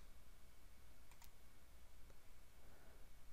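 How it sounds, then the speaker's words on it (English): A few light computer clicks, one a quick double, sound faintly over a steady background hiss while the undo button is pressed, with no talking. "So we can click on that undo button."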